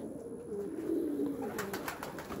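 Racing homer pigeons coo softly nearby, a low murmuring call over a quiet background, followed by a few faint clicks.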